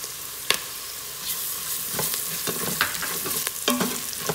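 Ginger garlic paste sizzles steadily while frying in an Instant Pot for masala dosa filling, a close, constant hiss broken by several clinks and scrapes of stirring, with no talk.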